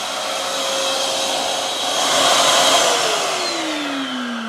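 A shop vacuum runs in a workshop with a steady, fairly loud whine that swells briefly midway and shifts pitch toward the end, with no talking.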